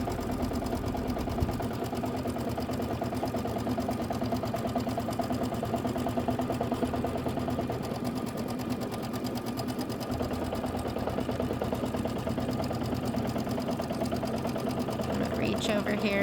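A computerized quilting machine stitches the borders of a pumpkin quilt, a steady, fast mechanical hum and needle chatter running continuously at moderate level with faint talk in the background.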